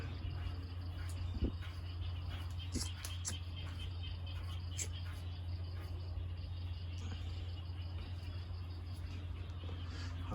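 Frogs and insects calling at night in a rural setting after rain, a faint steady cricket-like trill with scattered croaks and chirps layered over a low constant hum.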